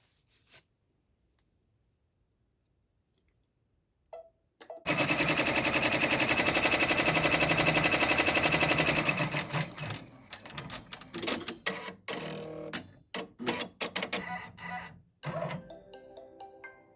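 After near silence and a couple of faint clicks, a multi-needle embroidery machine fitted with Durkee EZ Frames stitches custom socks with a loud, dense mechanical whir, then stops into a run of intermittent clicks and clunks.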